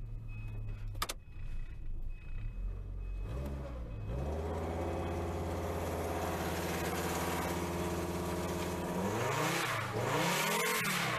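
A car at an auto auction cranks and starts, then runs rough in a steady, close engine drone with an uneven idle that rises and dips near the end. No one talks.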